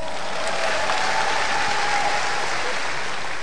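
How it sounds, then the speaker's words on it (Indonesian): A stand-up comedy festival audience on Indonesian television breaks into sustained applause: a thick, even wash of clapping from a large crowd, loud and constant throughout. "Tepuk tangan untuk Stand Up Fest hari ini."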